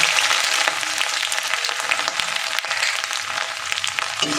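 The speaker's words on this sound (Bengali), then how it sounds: "এবার আমি এই তেলের মধ্যে প্রথমে আমি দিয়ে দেব আদা কুচি" Chopped ginger sizzling and crackling in hot oil, a steady close frying hiss throughout with no talking, while a rohu chilli fish dish is being cooked.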